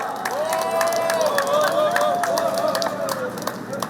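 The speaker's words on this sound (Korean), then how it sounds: "큰 박수 부탁드리겠습니다." Crowd at a Pohang citizens' rally claps and cheers, a steady dense wash of applause with a prominent sustained whistle or tonal cry riding over it, loud and continuous throughout.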